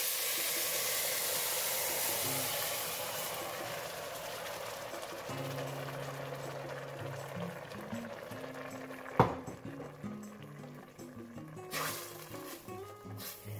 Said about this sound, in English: Bring this to the boil, and mine started boiling quite quickly